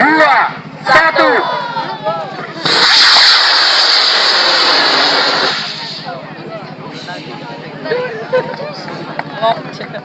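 A rocket launch at Santolo beach, Pameungpeuk, Garut: a loud, broad whooshing roar bursts out and holds for about three seconds before fading, with a crowd of people chattering and calling before and after it.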